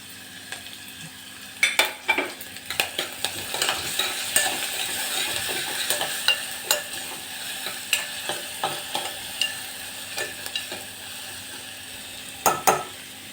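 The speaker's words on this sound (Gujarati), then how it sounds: "સાથે સાથે ડુંગળી કૂક થાય છે એની સાથે લસણની પેસ્ટ છે એ નાખી દઈ." Onion and garlic paste sautés in an open pressure cooker, giving a soft, steady sizzle close up, punctuated by sharp clinks and scrapes of a spoon stirring against the metal pot.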